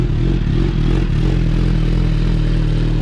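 A brand-new, warmed-up 2022 Suzuki Hayabusa motorcycle engine runs with a steady, loud, close-up rumble that holds even throughout, with no talking.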